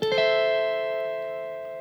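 An electric guitar minor triad chord on the top three strings is struck, with a quick second hit, then rings out with a smooth, effects-coloured sustain that gradually fades.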